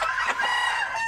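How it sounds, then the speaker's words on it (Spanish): A chocolate-colored rooster crows close and loud in one sustained call, with no talking. "uno de los gallos chocolates"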